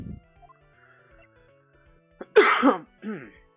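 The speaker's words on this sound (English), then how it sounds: "Still got this damn cough." A single harsh cough rings out close by against near silence, followed by a short voiced grunt.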